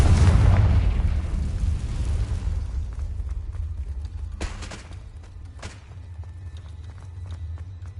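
A Confringo blasting spell goes off in Hogwarts Legacy inside a cave, a loud deep boom with a long rumbling tail that slowly fades, followed by a couple of faint crackling pops.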